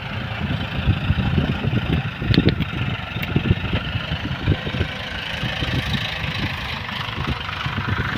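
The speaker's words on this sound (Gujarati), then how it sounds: "આ રીતે જમીન લેવલ થતી જાય છે પાળા વીખ્યા પછી ટ્રેક્ટરનું" A tractor engine rumbles steadily at close range while leveling farmland with a rear blade after field bunds are broken, a continuous low, chugging drone that holds level throughout.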